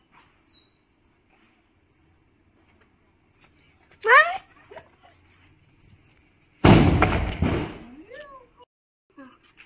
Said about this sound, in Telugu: బాంబు.